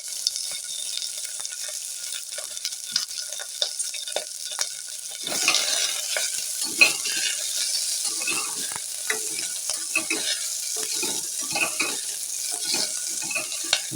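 Cinnamon, pepper, ginger, chilli, curry leaves and onion fry in a pan, a soft steady sizzle that grows busier after a few seconds, dotted with small pops and stirring scrapes.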